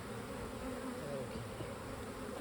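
Honey bees swarm around an open hive during an inspection, their dense, steady buzzing filling the air close by with no pauses.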